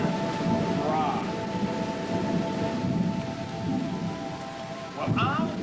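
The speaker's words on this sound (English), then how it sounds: "It really does rain in Waynesburg on July 29th." Steady rain falls outdoors on a summer day in Waynesburg, a constant dense hiss throughout, with faint tonal sounds drifting over it near the start and the end.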